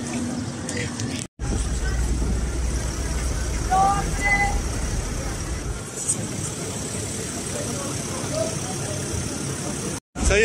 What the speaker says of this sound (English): on va embarquer pour le ferry pour Milos